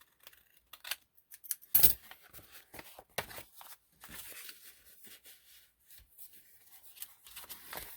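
Scissors trim a paper book page with a quiet series of crisp, close snips and cuts in short irregular bursts, with faint handling rustles between them.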